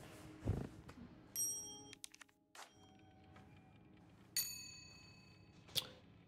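Several separate metallic bell strikes in Resident Evil 4 Remake, each a bright ringing tone with a lingering overtone tail, spaced a second or more apart over a low murmur, some louder and closer than others.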